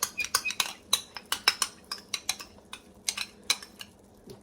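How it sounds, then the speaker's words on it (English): A utensil stirs whole milk yogurt briskly into lamb shank curry gravy in a pot, giving a quick run of clinking metal taps against the pan, close and fairly steady, with no talking. "you give it a quick stir, because you don't want your yogurt to curdle"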